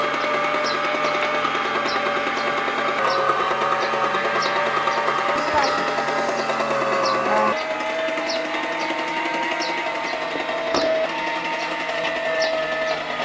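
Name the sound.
meat grinder mincing meat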